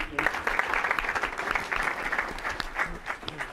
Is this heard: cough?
no